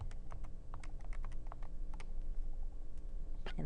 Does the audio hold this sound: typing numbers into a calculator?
yes